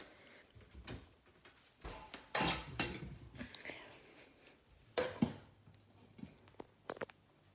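A lid is set onto a pot of white turkey green chili with several clattering metallic clanks and scrapes, faint and close, amid scattered quieter kitchen knocks.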